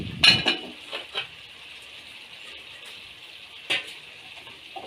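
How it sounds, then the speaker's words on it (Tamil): Drumstick pieces and tomato sautéing in a pan, with a few distinct clinks and scrapes of stirring at the start and again near the end over a faint, steady sizzle. "இப்போ இந்த முருங்கைக்காயை நல்லா வதக்கி விட்டுக்கலாம்"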